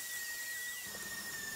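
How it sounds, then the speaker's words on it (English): A close, continuous high-pitched whine of a power sander working on wood end grain, steady and unbroken throughout. "Ah, the joys of sanding end grain"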